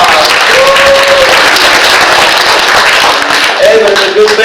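Audience applause at a library magic show, a broad steady wash of clapping with tonal voices or music rising over it, fairly loud throughout.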